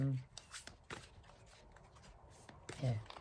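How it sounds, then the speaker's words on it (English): Two decks of mystical shaman cards shuffled together by hand indoors, soft papery riffles and slides in a few brief bursts, quiet and close. "I'm giving them a good shuffle. So that's 2 decks together, mystical shaman cards."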